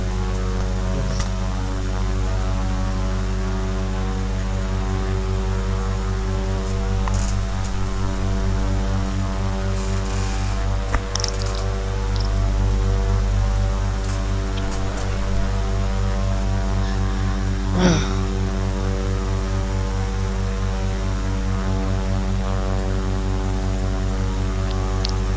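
A Cessna Caravan single-engine turboprop drones steadily in simulated flight, a loud continuous propeller-and-engine hum with a strong low harmonic buzz that stays level throughout, with no voices.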